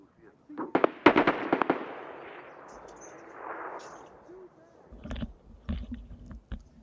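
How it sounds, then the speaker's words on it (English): Sharp bursts of gunfire in Escape from Tarkov, a quick cluster of loud cracks followed by a quieter stretch and then scattered, more distant shots, with a voice speaking over part of it. "They're getting shot at."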